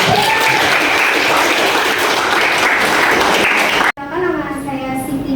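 Audience clapping follows a student presentation in a capital markets and portfolio management class, a loud sustained patter that cuts off abruptly, followed by a voice speaking.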